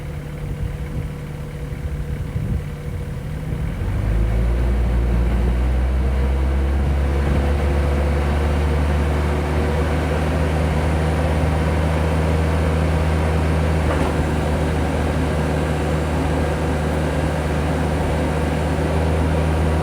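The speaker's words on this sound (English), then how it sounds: "I have to get the RPMs quite a ways up there, up to basically to max RPMs" A Kioti CS2520 compact tractor's engine idles and then climbs to a loud, steady high-RPM drone at about the three-second mark, holding near maximum revs while trying to lift a firewood-filled IBC tote.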